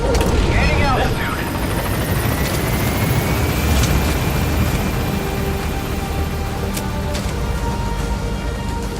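Extraction helicopter in Metal Gear Solid V, a loud, steady rotor roar and turbine whine filling the scene, with a voice talking over it.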